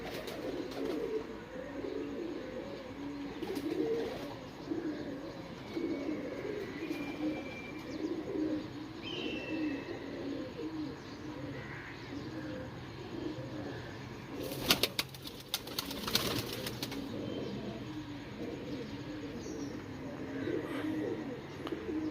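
Pet pigeons, including golden breeding pairs, coo steadily in a loft; low murmuring calls repeat throughout, with a brief burst of wing flapping midway and faint chirps in the background.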